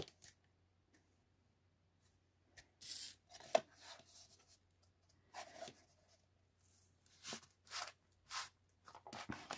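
Paper for a Christmas journal being cut with scissors into two pieces, soft intermittent snips and rustling scrapes in bursts separated by silence, quiet and close.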